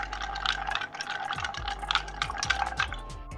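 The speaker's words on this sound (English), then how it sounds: "stir that up." A bartender stirs a cocktail, ice clinking and rattling against the glass in quick, bright taps over a low hum, fairly close and continuous.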